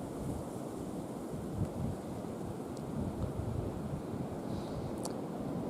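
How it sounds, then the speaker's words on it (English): Strong wind roars steadily through woods on Michigan public land in winter, a continuous heavy rush with microphone buffeting and no voices. "This is what we're dealing with for wind."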